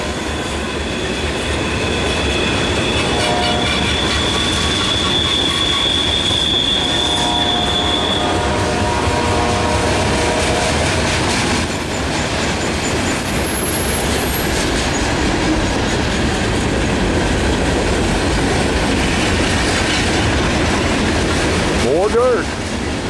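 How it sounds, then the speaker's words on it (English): A Norfolk Southern manifest freight train with AC44 and SD70ACu locomotives rumbles steadily past nearby near Shawsville, a continuous heavy roar of rolling cars with a brief wheel squeal near the end and a faint voice underneath. "They're going to stop this train at Elliston."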